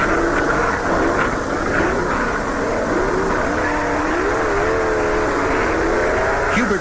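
1970s drag racing cars roar down the strip, a loud continuous engine howl with rising and falling pitch sweeps as they pass through the traps, dense and unbroken with no talk.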